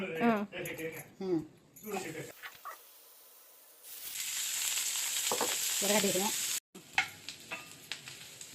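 Okra and onion fry in a pan for a Telugu okra chutney, a steady loud sizzle with stirring scrapes, while people talk before and after.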